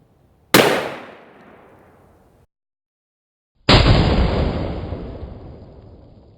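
Two loud, close gunshots from a .308 rifle fired point blank at a 16.9 fl oz bottle: each is a sharp blast with a long decaying tail, separated by a second of silence.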